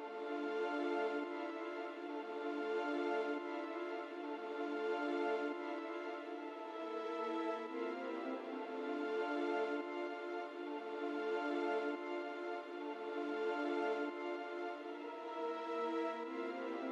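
String library patch from Spitfire Audio playing a sustained, layered orchestral string pattern drenched in heavy reverb, steady and full throughout with no voices.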